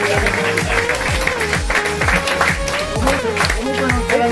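Applause rattles along steadily beneath voices and tonal sounds, the claps dense and close throughout the few seconds.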